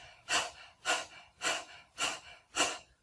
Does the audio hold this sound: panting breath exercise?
yes